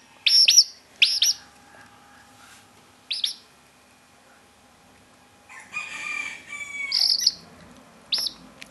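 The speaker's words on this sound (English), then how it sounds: "As long as he's making that noise, that tweeting noise like he's making now, you know he's okay." A sick chick tweets in high, bright peeps that come in short bursts with pauses between them, close and fairly loud, in a quiet indoor setting with a faint steady hum underneath.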